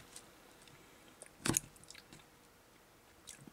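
A bite into a meat pizza topped with whole roasted garlic cloves gives one crisp, crunchy bite near the middle, followed by a few faint chewing sounds, close up in a quiet room with no talking.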